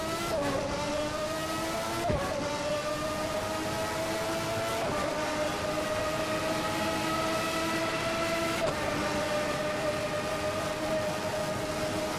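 A McLaren MP4/6 Formula One car's engine screams under hard throttle in the sim racing game Assetto Corsa, a loud sustained high-revving tone with brief dips at gear changes.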